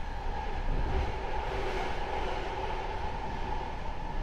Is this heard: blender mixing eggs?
no